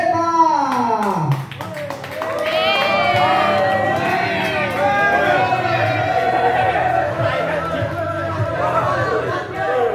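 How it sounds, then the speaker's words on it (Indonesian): An audience at the grand final of an internal stand-up comedy competition claps and cheers, a dense sustained wash of applause and shouting that rises and holds, with a voice speaking over the start. "berikan tepuk tangan yang meriah untuk Oval Beta."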